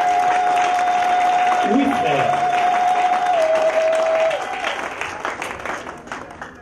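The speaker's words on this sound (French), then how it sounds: "Est-ce que tu peux lui donner une main d'acclamation?" Audience applause at a church sermon, sustained clapping under a steady tone and brief spoken words, then fading out near the end.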